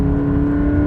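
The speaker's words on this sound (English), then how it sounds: "GT86 has got a boxer engine" Toyota GT86 boxer engine humming steadily at a loud, even pitch, a sustained close drone without clear rises or drops.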